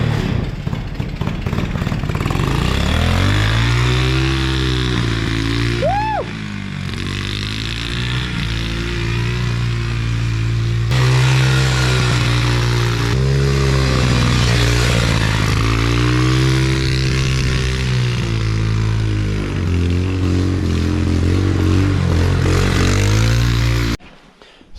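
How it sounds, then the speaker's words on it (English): A small mini dune buggy engine runs continuously, a loud close buzzing drone with shifting revs and a brief whine partway through, cutting off abruptly at the end. "So on the Dune Buggy now, we were testing it and we didn't really like how it was running."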